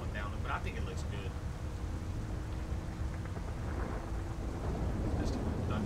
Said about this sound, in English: Just thunderstorms.